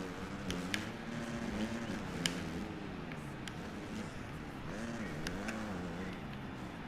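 Motorbike engines in the Monster Energy Supercross 3 video game rise and fall in wavering revs, quiet and steady throughout the race.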